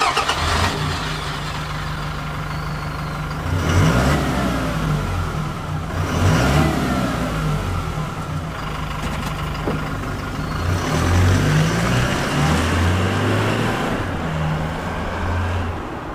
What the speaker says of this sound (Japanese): ガナドールマフラー低速。